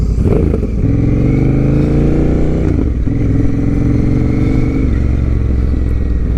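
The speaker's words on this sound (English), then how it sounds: "we're gonna head out, listen how it sounds" A Honda Rebel 1100 motorcycle fitted with a TBR exhaust revs and pulls away, its deep, loud engine rumble rising and falling through gear changes, close to the listener with no voices.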